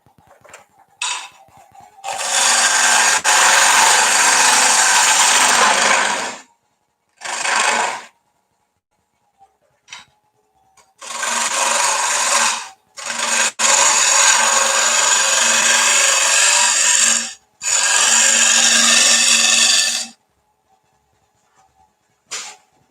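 A negative rake scraper cuts a wooden bowl spinning on a lathe, giving loud, steady bursts of scraping noise, each lasting a few seconds and separated by short pauses.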